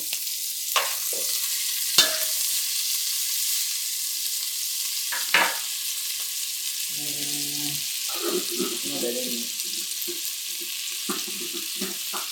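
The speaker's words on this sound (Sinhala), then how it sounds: "මේක බැදෙනවා" Nopal cactus frying in a pan, a soft continuous sizzle with a few sharp utensil clicks, followed by short bursts of stirring and scraping near the end, with brief talking.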